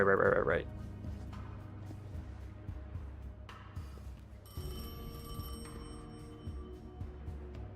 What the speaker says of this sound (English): Oh, it's the phone call.